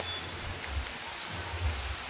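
Raindrops fall steadily outdoors, a soft, continuous patter with occasional heavier drops, fairly quiet and uniform with no voices.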